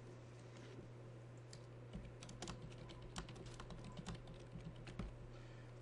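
Keys clatter on a computer keyboard in quick, irregular bursts of clicks over a faint steady hum, quiet and close with no speech.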